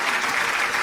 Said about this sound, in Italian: facciamo un applauso per Francesco